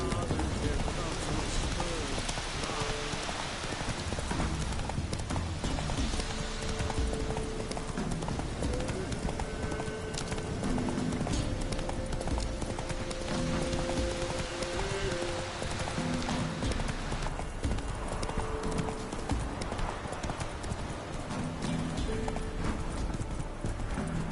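A horse galloping in the video game Witcher 3, rapid steady hoofbeats running continuously throughout, with an occasional whinny. A voice talks over it.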